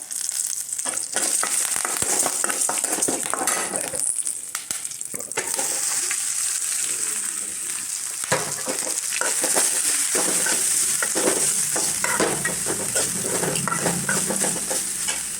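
Green chillies and curry leaves sizzling in hot oil in a home kitchen, a steady loud crackling fry with brisk stirring scrapes and occasional sharp spits, continuing for the full stretch with no talk.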